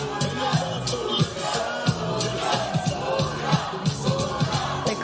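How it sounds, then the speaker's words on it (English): Crowd at a boxing event roaring and yelling continuously, a dense wash of massed voices with rhythmic surges and shouted bursts throughout. "The crowd is going for Julio Cesar Chavez Jr."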